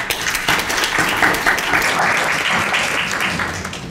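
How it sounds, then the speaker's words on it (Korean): Dense, steady applause from a seated audience at a Korean disability policy forum on independent living support law fills the room throughout, loud and close with no pauses. "여러분 큰 박수로 좀 청해 듣도록 하겠습니다"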